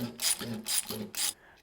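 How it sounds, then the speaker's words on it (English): A socket wrench ratchets in reverse on a Bow Medic bow cable press, giving three quick bursts of clicking in even succession, close and clear, with no talking. "flip your socket wrench back over to the reverse direction and let it down the same way you let it in."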